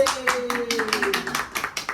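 Several people clap along at a family birthday celebration right after the birthday song, a steady run of sharp hand claps close by while a voice talks over them.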